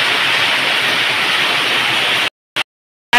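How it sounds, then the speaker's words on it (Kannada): Heavy wind and rain pour down as a loud, steady broadband rush that cuts off abruptly near the end, with a brief burst and then silence. "ಗಾಳಿ ಮಳೆ ಬರ್ತಾ ಇದೆ."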